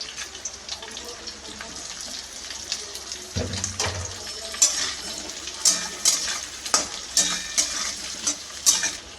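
Chunky diced potatoes sizzle and fry in a hot pan, with a steady crackle that grows louder midway and a run of sharp scraping stir strokes repeating every second or so.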